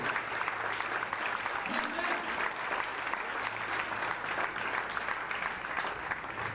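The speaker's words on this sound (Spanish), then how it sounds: "Aplaude." A church congregation claps together in sustained, even applause that fills the hall at moderate volume, with a faint voice or murmur underneath.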